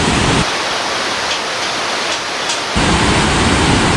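Loud, dense roar of rushing water from a multi-tiered waterfall at a resort in Munnar, running in high flow, a steady close wash that dips briefly before returning at full strength.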